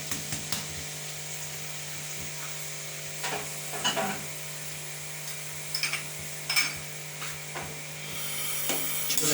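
Onions frying and being stirred in a hot wok over a stove flame, a steady low sizzle with a few scraping stir strokes standing out; no voices.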